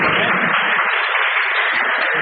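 A church congregation applauds to praise God, producing a loud, dense, continuous wash of many hands clapping together without pause for the whole stretch.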